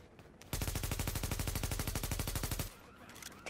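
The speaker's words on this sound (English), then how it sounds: "He's not gonna be able to get in that safe house because I shot him." Automatic gunfire in the video game The Division's Dark Zone: one loud, rapid burst of evenly spaced shots lasting about two seconds, close and sharp, then quieter game ambience.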